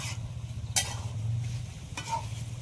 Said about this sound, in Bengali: এখন ভালোভাবে কষাতে হবে